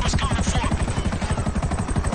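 A helicopter in the video game GTA V gives off a rapid, pulsing rotor chop, loud and steady throughout, mixed with game noise.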